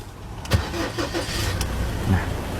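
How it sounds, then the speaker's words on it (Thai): A Ford Ranger 2.2 XLT Hi-Rider pickup truck engine cranks briefly and catches, settling into a steady low idle nearby. "เดี๋ยวผมจะสตาร์ทเครื่องนะครับ"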